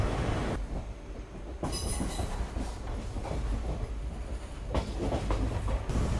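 An Indian passenger train hauled by a WAP4 electric locomotive rolls through Thokur railway station at the start of the Konkan Railway, with a continuous heavy rumble and clattering wheels and a few louder bursts.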